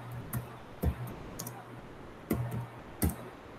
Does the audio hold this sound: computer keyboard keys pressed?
yes